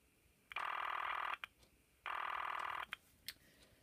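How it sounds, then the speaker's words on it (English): Old telephone switching equipment at a facility in Oregon sounds a two-ring code pattern: two long, even electronic rings separated by a short gap, with faint clicks between them. "we're listening to a two ring code pattern now"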